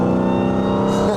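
A roughly 1000 hp Dodge Hellcat in manual mode, its engine roaring loud and close as it downshifts into second gear, a brief continuous growl with a rising blip near the end.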